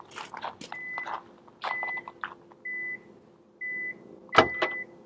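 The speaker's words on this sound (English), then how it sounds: "4 beeps, trunk opens." A series of short electronic beeps from a 2017 Hyundai Elantra sounds close by, spaced apart amid faint rustling, followed by a sharp click as the trunk pops open.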